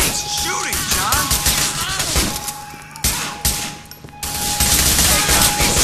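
Gunfire in the video game GTA The Lost and Damned: dense, loud bursts of automatic fire and crashing impacts keep coming throughout, with a brief lull near the middle and short shouted voices mixed in.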